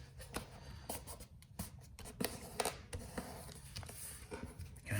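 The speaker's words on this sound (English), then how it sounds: "I'm gonna take this side and fold it into the middle" Paper being creased and folded into a checkered origami box, soft rustling and rubbing strokes with light scratchy taps, close and quiet, no talking.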